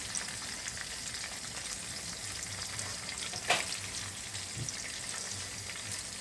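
French fries and raw banana chips crackle in hot oil with a steady, fine sizzling hiss and one brief louder spatter partway through.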